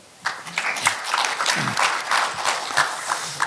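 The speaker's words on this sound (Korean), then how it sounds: "오늘 좋은 토론을 해주신 우리 두 분께 다시 한번 큰 박수 부탁드립니다" Audience at a Korean forum applauding, a few seconds of dense steady clapping that starts abruptly and stays moderately loud throughout.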